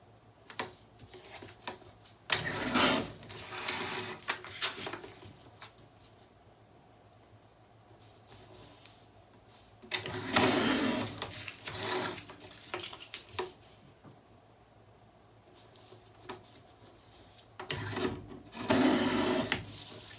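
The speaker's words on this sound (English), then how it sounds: "now I'm going to trim this one down to 4 by 6" A paper panel being cut down to 4 by 6 inches on a paper trimmer, heard as three separate rasping slicing strokes spaced several seconds apart, close and fairly soft, with quiet pauses between them.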